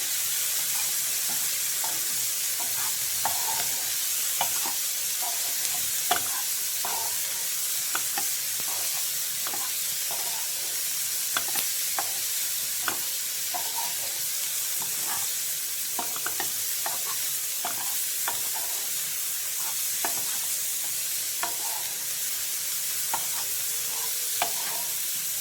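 Cauliflower stir-fries in a pan for a vegetable white pasta, with a steady, loud sizzle throughout and frequent clicks and scrapes from stirring layered on top.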